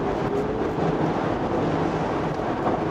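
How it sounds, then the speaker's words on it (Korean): Steady roaring wind noise inside a Land Rover Defender 90 at speed on a cement road, a broad continuous rush with the engine's low drone underneath and no voices. "아무래도 속도를 높이니까 바람 소리가 좀 커지고요"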